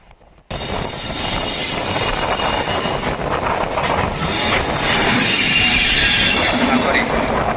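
Padatik Express train pulling into Sealdah station, a loud, steady rumble of wheels and carriages with rising metallic squeal that swells and builds toward the end.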